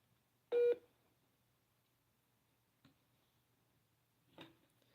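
A telephone sounds a short loud tone burst as a call is placed, followed by two fainter tones a few seconds apart over a quiet background.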